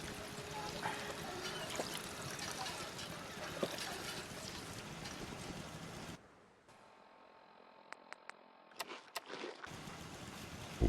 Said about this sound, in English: I guess I'll just have to use the water pump